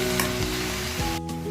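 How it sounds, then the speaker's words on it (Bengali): Leafy greens tossed into a hot pan of browned spices and stir-fried, a steady continuous sizzle with a brief scrape of stirring, close and alone with no talk. "একটু কষিয়ে নেওয়ার পর দিয়ে দেব হচ্ছে শাকগুলো। ভালো করে মিশিয়ে নেব।"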